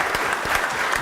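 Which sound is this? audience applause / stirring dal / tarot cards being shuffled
audience applause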